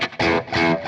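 Damaged Les Paul electric guitar giving a harsh, fizzy, broken-sounding distorted tone in two short choppy bursts, close and loud, with no voice over it.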